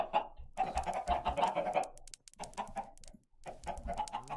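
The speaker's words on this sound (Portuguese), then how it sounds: "Vem aqui, galinhas." Chickens cluck in Minecraft, in soft, repeated, bubbly clucking phrases separated by short pauses, faint and steady with no talk over them.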